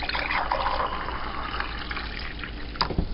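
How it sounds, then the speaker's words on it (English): Water pours steadily into the reservoir of a Mr Coffee Keurig one-cup coffee maker, a continuous close splashing trickle that ends with a brief clatter. "I'm going to pour some water in."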